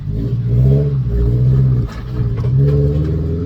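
A Toyota Tacoma with the 2.7 engine and a Borla ProXS exhaust runs close by, its low exhaust rumble steady with one brief dip before it continues.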